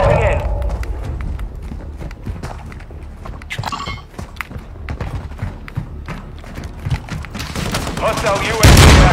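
Gunfire in a video game: scattered shots and short bursts mixed with footstep-like clatter and a loud blast near the end, heard under excited voices talking throughout.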